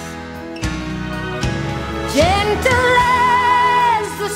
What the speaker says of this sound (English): There's a bit of orchestra coming now.